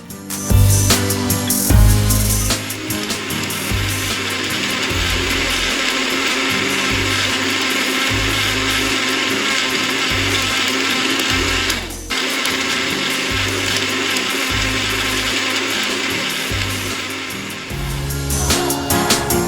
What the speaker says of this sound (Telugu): బాగా స్మూత్గా బ్లెండ్ అయ్యే వరకు మిక్సీ జార్లో బ్లెండ్ చేసుకుని